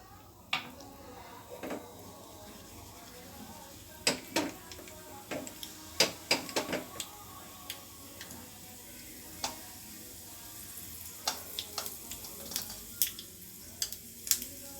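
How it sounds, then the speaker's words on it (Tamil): Mustard seeds and urad dal spluttering in hot oil for onion chutney: scattered sharp pops and crackles over a low sizzle, close by and irregular, growing busier toward the end. "கடுகு நல்லா பொரிஞ்சிடட்டும்."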